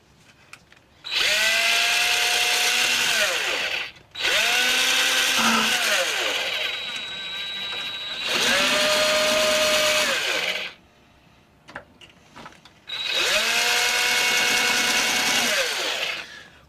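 A small power drill whines in four long bursts, revving up and winding down between pauses, close and loud, drilling servo holes in a model plane.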